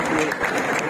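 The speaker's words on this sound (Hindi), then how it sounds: "खान साहब आए हैं जो आपसे बातचीत करना चाहेंगे, तो प्लीज इनके लिए भी जोरदार तालियां बजा दीजिए।" An audience at a classical music festival in a Lahore concert hall applauds, a short, loud wash of steady clapping filling the hall.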